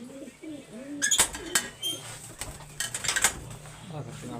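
Red-winged pigeons cooing in soft repeated low calls near the start, followed by clattering metallic clinks and a voice talking nearby.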